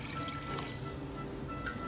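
Water is poured into a Christmas tree stand, a quiet, brief trickle and fill that runs steadily for under two seconds with no voices.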